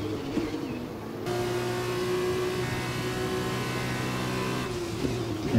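A Formula 2 car's engine in F1 2021 holds a high, steady whine at sustained revs, loud and close, with a shift in pitch early on and no voices over it.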